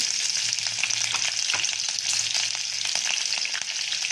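Peanuts roast in hot oil with cumin and chili, giving a loud, steady frying hiss with scattered crackles and a few stirring scrapes, close and continuous with no voices.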